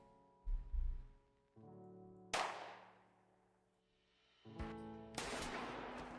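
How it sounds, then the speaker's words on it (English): Gunshot sound effects are auditioned in Roblox Piggy build mode: several sharp, punchy bangs with decaying tails, spaced a second or so apart over a faint tonal hum. "that's like the exact gun sound from Squid Game"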